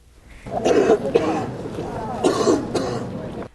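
A few sharp, raspy coughs or throat-clearing bursts up close, coming in two short clusters with a pause between.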